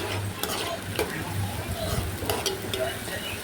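Tamarind water and spice masala for inji puli bubbling hard in a pan while a spoon stirs through it, a steady close sizzle with scraping strokes and no talk.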